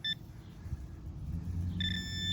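Metal detector pinpointer used alongside a Garrett AT Pro, beeping on a target in a dirt plug: a short high beep, a pause with outdoor rustling, then a longer sustained beep.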